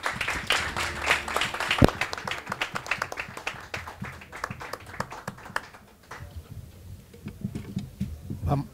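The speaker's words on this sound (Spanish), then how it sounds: "sí que les pido que les demos un aplauso por lo menos para romper el hielo" Audience applause at a Spanish round-table literary event, a scattered burst of individual hand claps, loud at first and thinning out to sparse, softer claps before stopping.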